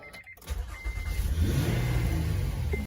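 A Honda Odyssey's naturally aspirated Japanese V6 cranks and fires up, then revs into a loud, gruff roar that holds steady before cutting off, recorded up close with no talking.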